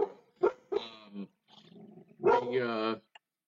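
A dog gives a few short barks and a whining, growling yowl indoors, close and fairly quiet, with pauses between outbursts.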